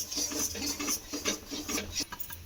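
Semolina being stirred little by little into a red lentil batter, a steady scraping and rasping of a spoon against the pan in quick repeated strokes, close and alone.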